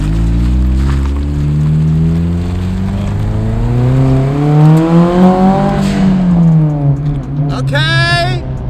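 A turbocharged Honda Civic pulls hard, its engine droning and climbing in pitch through a long rev before easing and rising again, loud and close from inside the car, with people talking over it.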